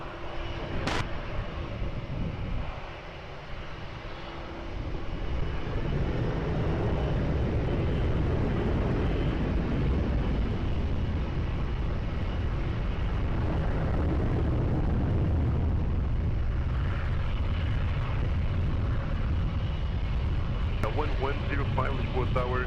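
A Ryanair jet rolls for takeoff on runway 20 at Lisbon Airport with a heavy, continuous engine roar that swells and holds, while voices talk over it.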